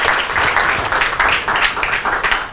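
An audience at a UCL energy research seminar applauds a welcoming speaker, a dense, steady wash of many hands clapping at close range.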